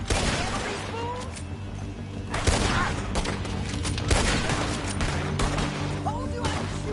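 Gunfire in Red Dead Redemption 2 during a fight, a fusillade of repeated shots cracking over dense game ambience and music, with characters talking throughout.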